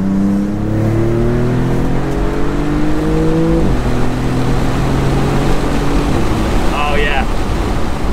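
A Maserati MC20 Cielo supercar accelerating hard with its roof open, its engine note rising steadily through the gears with a sharp shift drop, loud and close, and a brief voice near the end.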